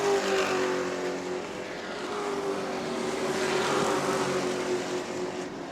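Race cars at New Smyrna speedway roar past in a sustained, loud engine drone with a steady pitch that swells and fades slightly as the pack runs close together, with no voices.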